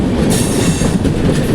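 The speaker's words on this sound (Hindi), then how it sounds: "सूरत railway station Duronto express skip कर रही है" The Duronto Express runs through Surat railway station without stopping, a loud, steady rumble of rolling coaches with rhythmic wheel clatter on the rails, close by and continuous.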